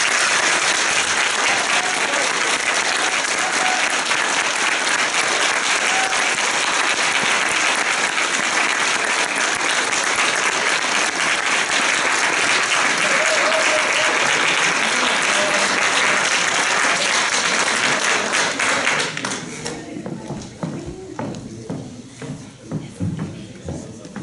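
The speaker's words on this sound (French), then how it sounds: "Ensemble, mesdames et messieurs, applaudissons chaleureusement tout notre journée." An audience at a college graduation ceremony in Alfred applauds warmly in a dense, sustained ovation that continues for about twenty seconds, then thins into scattered claps.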